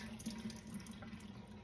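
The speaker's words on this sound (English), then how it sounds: "This time I'm pouring it over the sink" Faint, steady trickle of Star San sanitizer solution being poured into a sink, a soft continuous splash with a low hum beneath it.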